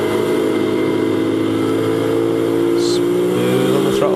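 A Racing Thunder Championship car's engine drones loud and steady at Silverstone as it runs past the pits, with a faint passing whine near the end.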